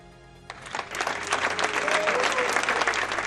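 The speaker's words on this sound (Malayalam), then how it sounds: "ലോകകപ്പിന്റെ റഫറി പാനലിലെ സഹപ്രവർത്തകർ കൈയടിച്ച് അഭിനന്ദനം അറിയിച്ചപ്പോൾ" Referee panel colleagues burst into sustained applause for a FIFA World Cup final referee, hands clapping thickly and steadily from about half a second in until the end.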